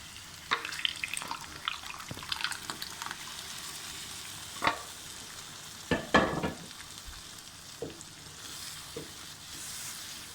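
Cooked daal goes into a hot pan with oil and garam masala and cooks, giving a steady close sizzle broken by a few sharper stirring scrapes and splashes, with no talking.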